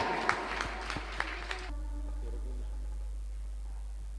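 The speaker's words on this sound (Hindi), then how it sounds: "जोरदार तालियां।" Audience applause at a Kalyan Mandir training camp gathering in Bhopal, a burst of clapping with sharp peaks lasting under two seconds before it cuts off abruptly into a quiet room hum.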